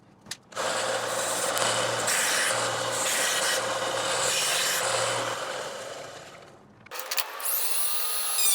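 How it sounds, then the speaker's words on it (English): Wooden wind spinner pieces for a Halloween witch whirligig are sanded with a steady, loud, abrasive rasping that runs for about six seconds. Quieter handling noises follow, with no talking. "I have to take and sand these up a little bit"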